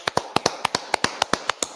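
Sharp hand claps at a gathering of the Israelite School of Universal Practical Knowledge in Charlotte, about eleven in under two seconds, in a quick, slightly uneven rhythm. They sound close and fairly loud against a quiet background.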